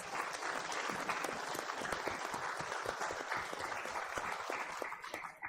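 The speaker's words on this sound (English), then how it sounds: "So let's have a round of applause for our speakers." Audience applause for the speakers at a community forum on the Ukraine war: a steady, dense wash of many hands clapping throughout, fairly distant, fading slightly at the end with no talk over it.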